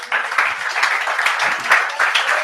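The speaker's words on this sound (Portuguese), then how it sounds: "Dê um aplauso a Jesus." Congregation applauding at an evening family church service, a dense wash of clapping sustained through the whole moment with slight swells, fairly loud and close.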